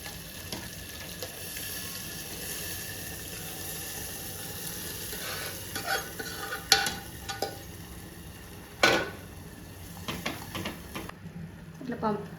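Dal being stirred into masala in a pan, a low continuous sizzle under scattered spoon scrapes and clinks that grow busier toward the end, close by, no talking.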